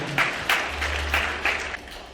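Wedding guests clap briefly during a ceremony held in pandemic times, the applause coming in a few short surges over a low steady hum.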